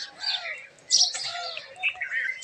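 Small birds chirping and tweeting in quick bursts at close range as grain is scattered for them during a morning feeding, with brief flutters of wings and no talking.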